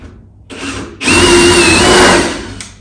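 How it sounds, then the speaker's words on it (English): A power drill fitted with a 10mm bit bores through timber studs in a garage partition wall, a short whine that starts briefly, pauses, then drills hard for about a second and a half before spinning down. "So 10mm bit, I'm just going to go along and drill through each piece"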